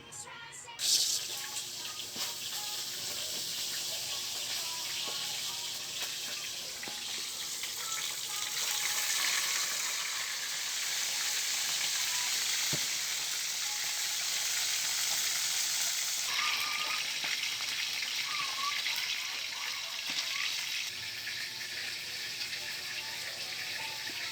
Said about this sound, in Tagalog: habang nagpiprito tayo ng bangos